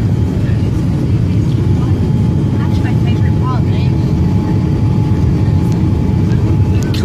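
A Boeing 787 cabin hums steadily during the landing approach, a loud, constant low roar of engines and airflow with faint chimes and clicks above it.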